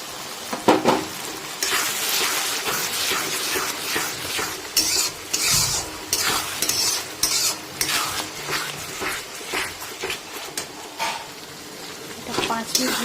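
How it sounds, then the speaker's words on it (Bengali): Ginger garlic paste frying on high flame in a pan, a steady loud sizzle broken by repeated scraping strokes of a spoon stirring. "এটাকে জাস্ট বেশিক্ষণ নয় পাঁচ থেকে সাত মিনিট একটু হাই ফ্লেমে ভেজে নিতে হবে"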